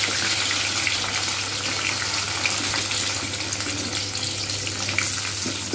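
Teasel gourd (kakrol) frying in hot white oil in a kadai gives a loud, continuous, hissing sizzle that holds steady throughout with no pause.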